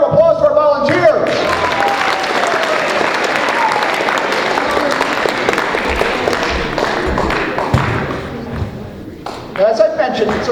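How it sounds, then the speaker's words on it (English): An audience at a hypnosis stage show gives the volunteers a loud round of applause, dense clapping that holds for several seconds and then tapers off, with someone speaking at the start and again as it ends. "let's give a round of applause to our volunteers."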